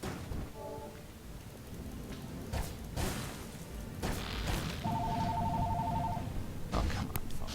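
A telephone rings in two short bursts over a steady rain-and-thunder game soundscape from Spiral Knights, the second ring longer and clearer, with no talking.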